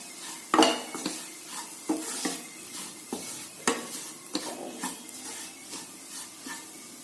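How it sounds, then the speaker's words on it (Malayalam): Coriander powder masala for chicken curry is stirred and sautéed in a pan. A spoon scrapes and clatters in repeated strokes over a soft sizzle, with one louder knock near the start. "നന്നായിട്ട് ഇളക്കുക. പച്ചമണം മാറുന്നത് വരെ നന്നായിട്ട് വഴറ്റിയെടുക്കുക."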